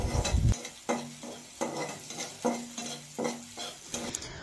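Curry being stirred and fried in a pan at home, a continuous sizzle broken by rhythmic utensil scrapes and taps against the pan roughly every half second, with no voices.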